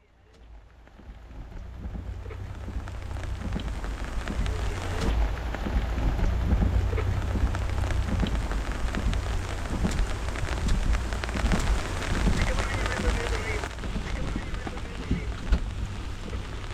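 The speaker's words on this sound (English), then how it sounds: "Anyone who says it doesn't rain in Africa is lying." Steady heavy rain pours down in Kenya's Masai Mara, with low rumbles of thunder rolling beneath the dense hiss of drops, building over the first few seconds and staying loud throughout.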